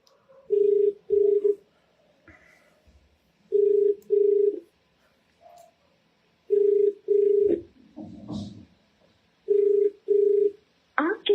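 Phone call ringing out unanswered: repeated pairs of electronic ring tones in a steady cadence, loud and close on the line, with brief gaps and a faint voice murmuring between rings.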